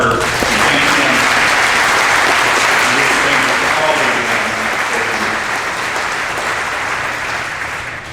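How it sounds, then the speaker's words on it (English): Sustained audience applause fills a room at a Kentucky Bourbon Hall of Fame award ceremony, loud and steady for the full stretch before easing slightly toward the end. "So please, let's applaud Parker and thank him."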